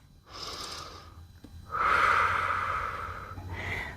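Slow, audible breaths during a yoga twist: an inhale, then a longer, louder exhale with a wheezy, airy rush, followed by the start of another breath, close and alone.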